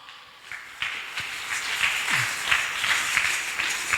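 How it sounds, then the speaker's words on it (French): A church congregation claps loudly and steadily, the applause starting thin and building into a sustained patter of many hands over a few seconds, with no one speaking over it. "On acclame très fort."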